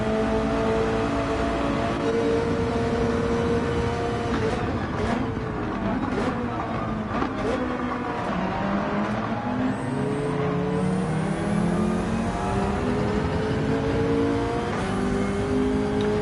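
A Subaru BRZ race car engine in Gran Turismo on the Dragon Trail Gardens circuit, a steady loud drone with rising and falling revs through gear changes, and other cars whooshing past now and then.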